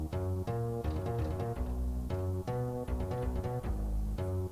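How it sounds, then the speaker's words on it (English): Very low-tuned harp sample built into Maschine for a dark, spooky beat, playing a looping melodic pattern of deep plucked notes with strong sustained bass, alone without talk. "There's this harp sound, which is just also tuned to be super low"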